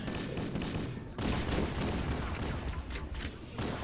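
Continuous video-game gunfire aimed at Flood enemies in a Halo library level, a steady barrage of rapid shots with louder bursts, close and dense throughout.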